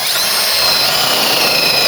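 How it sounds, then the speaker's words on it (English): Power drill with a spot weld drill bit cutting into the body of a Mk3 Cortina under restoration, a loud continuous high-pitched whine, close and alone. "Spot weld drill bit's getting a bit weak, so I'll swap to a tighter one"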